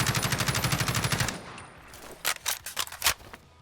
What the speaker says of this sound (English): Then we also have an alternate reload animation.